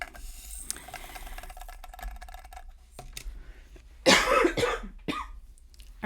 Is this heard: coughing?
yes